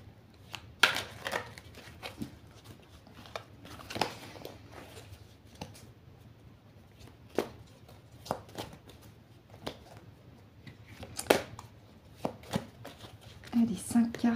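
Oracle cards being cut and shuffled by hand in a quiet room, a series of soft, irregular riffling and tapping sounds of varying loudness.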